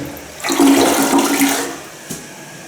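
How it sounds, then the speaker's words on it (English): Toilet flushing in a Tru by Hilton hotel room, one close, loud whooshing flush that swells quickly and then drains away over a couple of seconds. "And then there's the toilet down there."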